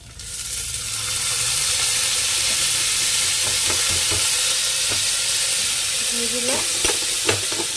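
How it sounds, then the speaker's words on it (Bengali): Vegetables stir-frying in oil in a pan after fish has been fried. A loud, close sizzle swells in and holds steady, with scraping stirs growing more frequent toward the end. "সবজিগুলো ওই যে হালকা ভাজা হয়ে গেল"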